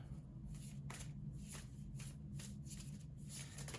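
Tarot cards are shuffled by hand in quiet, rhythmic riffling bursts, roughly one every second, soft and close with a faint background hum.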